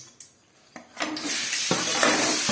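Chicken pieces for a Tamil chicken curry are tipped into a metal pan, with a few sharp clatters and knocks followed by a loud, rising sizzle and scraping that carries on steadily, close up and with no talking.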